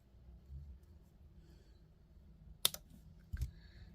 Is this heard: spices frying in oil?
no